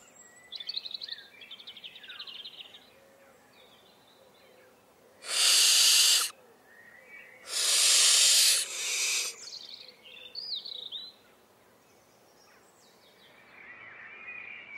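Wild barn owls roosting beside a cramped loft in the British countryside give scattered calls, then two loud, long, rasping hiss-screeches close by, followed by quieter calls.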